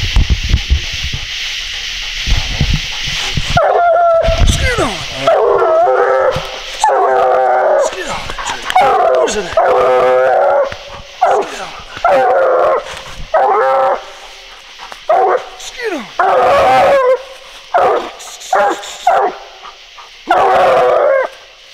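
Coon hunting hounds bay and bark repeatedly outdoors at a tree, a series of loud, drawn-out bawling howls with brief pauses between them.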